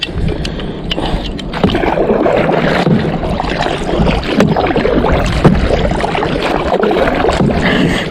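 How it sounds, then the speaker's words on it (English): Canoe or kayak paddled out on a lake during a fishing trip, with continuous close water splashing and gurgling from the strokes plus light wind noise throughout. "I'm going to paddle on out"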